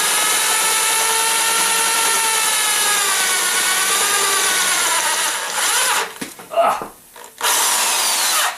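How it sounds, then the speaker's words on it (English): A power drill whines steadily and loudly, its pitch wavering as it bites through a pressed-in metal plug, then stops and restarts after brief pauses. "we're done with the drilling, hopefully"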